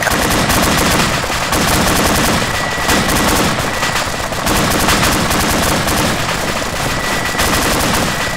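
Sustained machine gun fire in the military shooter Arma 2, loud, rapid bursts rattling almost continuously for the whole stretch with no pauses or talk.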